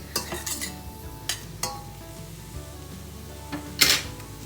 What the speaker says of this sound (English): we will let this cook away until the onions are translucent and the mushrooms have cooked